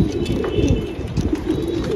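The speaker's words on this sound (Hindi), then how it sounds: "बड़ा प्यारा कबूतर है" Patiala and racing homer pigeons coo in soft, low, throaty bursts close by, a steady murmur of several birds with light rustling around them.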